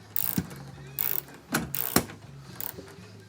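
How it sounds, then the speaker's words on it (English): A sheet metal screw is snugged down on the fan motor of a 14,000 BTU Fedders air conditioner, making short, close ratcheting clicks in repeated bursts with brief pauses between turns. "Snug it, don't go crazy, because all it is a sheet metal screw at the end of the day."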